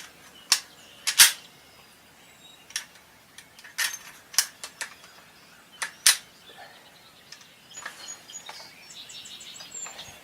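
Remington Gamemaster rifle action being worked, producing a series of sharp, isolated metallic clicks and clacks, some doubled, spaced irregularly and close up, with faint bird chirps in the background and no talking.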